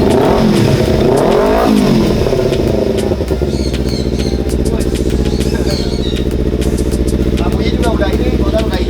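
A motorcycle fitted with a racing exhaust revs hard, its engine climbing and falling in a loud rasping burst before settling into a steady, throbbing idle, with people talking nearby over it.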